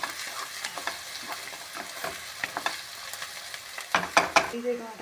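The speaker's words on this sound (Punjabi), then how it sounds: "ਸਾਰੇ ਮਸਾਲੇ ਨੂੰ ਵੀ ਆਪਾਂ ਲਾਈਟ ਬਰਾਊਨ ਜਿਹਾ ਹੋਣ ਤੱਕ ਪਾਉਣਾ" Spice masala for palak paneer fries in a pan with a close, continuous sizzle, broken by repeated stirring scrapes and taps that grow busier and louder toward the end.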